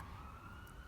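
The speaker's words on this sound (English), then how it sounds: "sorry for the siren" A steady siren tone holds in the distance outdoors, faint and continuous, heard alone without voices.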